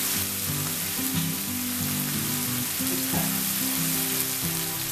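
Chopped onion and green peas fry in a kadai, a continuous loud sizzling hiss close up, with a steady low hum beneath and a faint tap or two, no voices.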